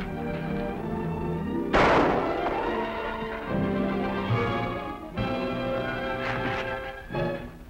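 Gunshots ring out in a 1951 western TV show. A sharp crack cuts through a continuous music score, and a few softer shots or impacts follow a few seconds apart.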